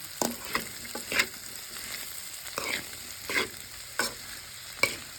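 Bitter gourd frying in a pan, with a soft steady sizzle broken by several sharp scraping stirs at irregular intervals.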